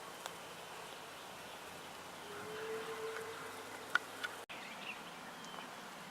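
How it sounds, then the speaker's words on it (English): Faint, diffuse buzzing of bees from a swarming hive heard outdoors at a distance, a low steady hum with occasional brief ticks and rustles. "I hear bees. I hear buzzing, a slight roar."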